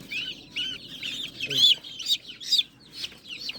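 Desi chickens cluck and squawk close by in a repeated series of short, sharp calls, a few louder cries standing out, over a quiet low background.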